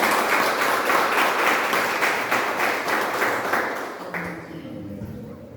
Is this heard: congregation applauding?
yes